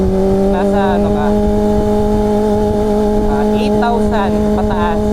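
Kawasaki ZX25R inline-four motorcycle engine holding a steady high-pitched scream at high rpm, with brief rising rev blips layered over the constant drone, close and loud throughout.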